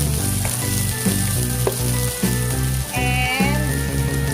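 Onion frying in hot oil for pinakbet, a steady close sizzle with occasional stirring clinks and scrapes throughout.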